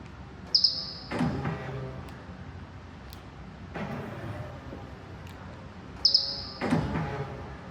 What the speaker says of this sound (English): when you lock the door, the R1S makes a little bird sound tweeting.